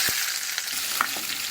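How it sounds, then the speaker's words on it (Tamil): Mustard seeds and urad dal splutter and pop in hot oil in a pan, a dense close crackle with a few sharper pops, no voices. "இங்கே பாருங்கள், நல்லா பொரிக்க ஆரம்பிச்சு கடுகு."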